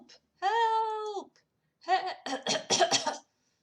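A character in a Let's Play game coughs in a strained, drawn-out burst followed by a rapid series of harsh hacking coughs, close and clear against silence.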